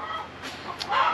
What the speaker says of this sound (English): Chickens are singing the chicken song next door, which tells me there's a brand new egg in there.